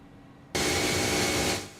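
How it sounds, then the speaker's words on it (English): A loud airliner engine roars outside the cabin in a flight simulator, cutting in abruptly as a broad steady rush of noise that holds for about a second, then fades slightly. "Wow, this airplane's loud outside."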